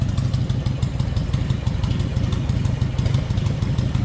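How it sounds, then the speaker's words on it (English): A 1999 Harley-Davidson Heritage Springer motorcycle idles nearby, a steady loud low rumbling lope with uneven pulsing beats throughout. "beautiful sounding bike. Good looking bike too, especially that Springer front end"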